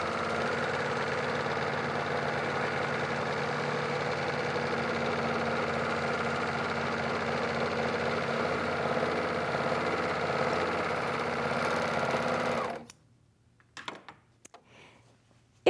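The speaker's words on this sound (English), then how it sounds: "if you simply run the raw edge through your serger" A serger sewing machine runs along a raw fabric edge with a steady, even motor whir and a fast mechanical stitching buzz, which stops abruptly near the end and leaves a few faint handling clicks.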